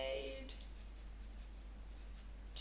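A pencil shades across grid paper in soft, steady scratching strokes, close and faint, with a brief voice at the start and low hum underneath.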